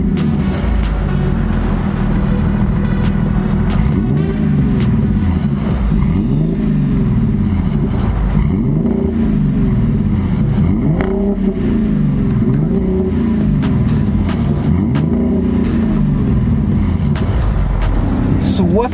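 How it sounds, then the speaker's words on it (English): A 2008 Audi A5 with a six-speed manual gearbox accelerating, its engine drone steady and loud throughout with rising and falling tones as gears change, heard from inside the car without any talk. "what's it like driving a 2008 Audi A5 6-speed manual?"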